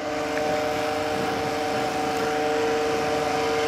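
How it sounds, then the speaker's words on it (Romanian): Steady droning whine with tonal harmonics, like a distant chainsaw running continuously, heard in the Slender horror video game; constant and unbroken, no voices. "Se aude o drujbă."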